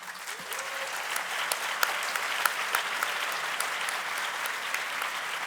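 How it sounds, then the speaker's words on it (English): An audience at a talk on feminism and anti-racism in Madrid applauds a speaker, a dense, steady wash of clapping with a few sharper claps standing out, alone and without speech. "maybe you all should stop applauding"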